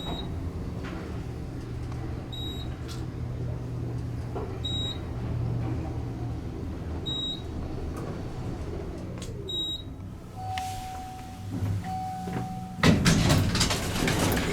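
An Otis Series M2 traction elevator at the Mayer Building in Portland, Oregon, runs with a low motor hum, while repeated short electronic beeps and a longer tone sound, then doors clunk and slide near the end.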